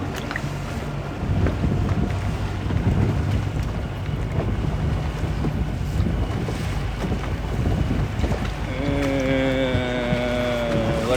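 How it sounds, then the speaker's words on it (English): Steady wind gusts rushing across the microphone aboard a stone crab fishing boat in the Florida Keys, a broad roar over water with a motor hum underneath and a brief whining tone near the end. "Wind's picked up."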